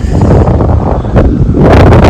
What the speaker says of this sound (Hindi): हवा चल रही है बहुत तेज, ठंड लगती है।